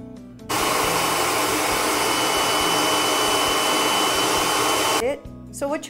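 A kitchen blender whirs loudly and steadily for about four and a half seconds while blending chilli paste loosened with olive oil, then cuts off, leaving brief quiet handling noises.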